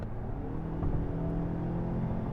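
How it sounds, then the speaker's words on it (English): A 2020 Mazda 6 Turbo in sport mode pulls uphill, its engine giving a steady, close low hum and whir that holds fairly even throughout with no talking. "I'm gonna hit it again uphill here"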